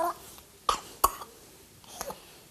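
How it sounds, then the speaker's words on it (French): An infant gives a few small, soft coughs spaced apart, faint and close, with a quiet whimpering sound near the end. "Le nourrisson commence à tousser."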